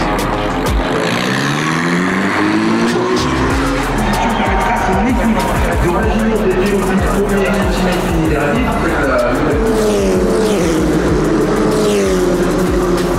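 Race cars lapping a track during qualifying at the GP Explorer event, engines revving and shifting with rising and falling whines as cars pass close by, loud and continuous, crowd noise and voices mixed in.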